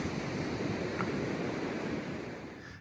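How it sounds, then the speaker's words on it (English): Ocean surf at a beach, heard as a steady, broad wash of waves with some wind rumble, moderately loud and continuous throughout with no voices. "we're quite close to the ocean"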